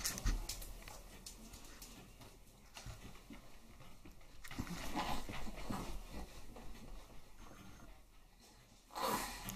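A dog heard nearby indoors, giving intermittent panting, snorting and sneeze-like huffs over about ten seconds, with a couple of louder bursts toward the middle and end.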